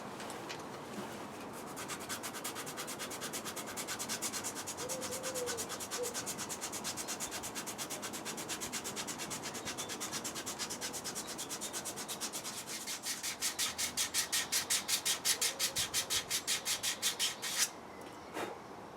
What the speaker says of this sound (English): stage one of sanding with the 80 grit sandpaper